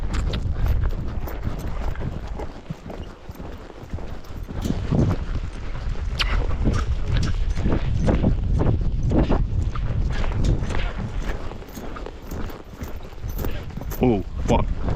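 Several horses from a training string moving at a canter outdoors, with a steady rolling drum of hoofbeats on ground under light wind, while a rider talks and gives calls over the hooves.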